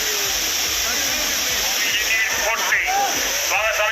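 Courtallam waterfall pours steadily as a loud, continuous broadband rush of falling water, with faint voices and background murmur mixed under the constant roar.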